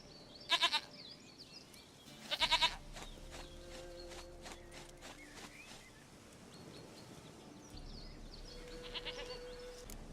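Goat bleats from The Witcher III come in two short bursts near the start, with a fainter call at the end, over ambient game background and soft tones.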